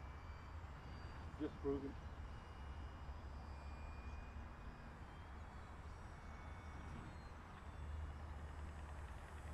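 Electric motor of a Durafly Tundra V2 RC plane at about half throttle, flying low passes with flaps out, gives a steady, fairly quiet drone with wind noise throughout; someone speaks briefly near the start.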